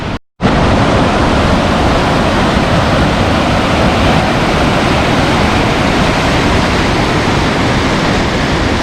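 Rhine Falls in Switzerland, Europe's largest waterfall, roars as a loud, dense, unbroken rush of water heard close up from the river, with only a brief dropout at the very start.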